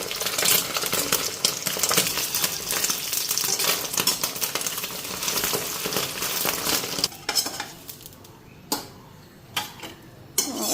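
An egg omelette frying in a hot pan gives a dense, continuous crackling sizzle that thins out near the end into a few scattered pops and clinks.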